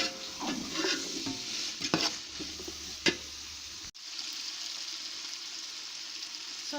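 Fried rice mix being stirred in a pot with fresh pepper, with scraping and sizzling strokes near the start that thin out into a steady soft frying hiss after a brief dropout.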